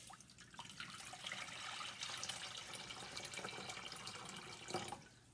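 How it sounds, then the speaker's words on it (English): Water is poured into a pot in a classroom convection demonstration, a steady faint trickling and splashing lasting several seconds with a few sharper drips. "I'm going to put some water in here."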